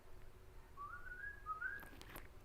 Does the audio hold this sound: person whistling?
yes